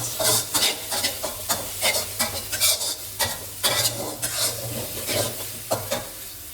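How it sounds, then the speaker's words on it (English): Chili and garlic frying in a pan for a Thai eggplant stir-fry, a steady close sizzle broken by repeated scraping stirs and spatula clatter in an irregular rhythm, with no voices. "Add the chili and garlic and fry until fragrant, or about 1 to 2 minutes."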